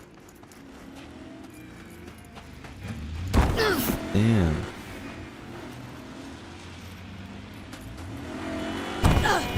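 A stolen car's engine revs in a city driving video game, with a couple of loud bursts rising and falling over steady road and traffic noise, and a voice briefly heard.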